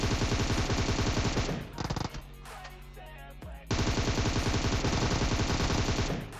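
Rapid automatic gunfire from an M7 rifle fitted with a 4x scope in a video game, loud dense bursts before and after a brief pause that holds scattered shots and lower rumble.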